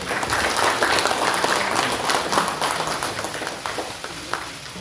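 Sustained loud applause from a large audience at a political party event, welcoming an arriving party leader; dense steady clapping throughout with no voices standing out.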